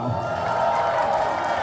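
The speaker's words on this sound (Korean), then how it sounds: "그리고 여기 함께 하신 모든 우리를 위해서 박수." Audience at a book launch talk concert clapping and cheering, with scattered whoops over a dense crowd noise, brief and lively.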